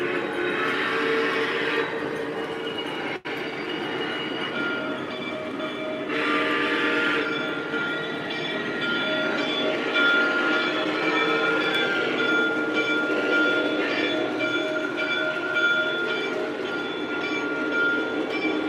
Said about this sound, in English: So the train's at the station right now.